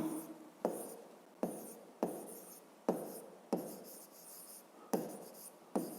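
A pen writes out a math product on paper in a string of short scratchy strokes, each starting with a sharp tap and trailing off, close and quiet with brief pauses between strokes.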